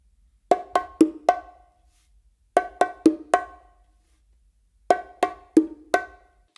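Bongos playing the Brazilia rhythm, macho and hembra struck by hand in three repeated phrases of quick, crisp slaps and open tones, close and dry with short silent gaps between.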